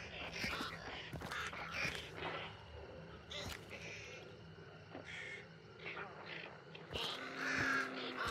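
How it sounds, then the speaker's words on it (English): A crow caws repeatedly and insistently in Hunt: Showdown, harsh calls recurring across several seconds, with sharp impacts and a person talking underneath. "This bird's just going crazy."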